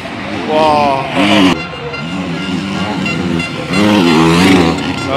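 Motocross motorcycles racing wheel to wheel at the MXGP round in Ernée, engines rising and falling in pitch as they pass, with a commentator talking over them.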